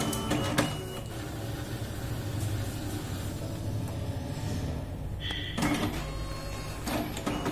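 An Evolis Primacy card printer runs a test card print, a steady mechanical whirr with brief clicks and a short shift in motor tone near the end, close and continuous with no talking.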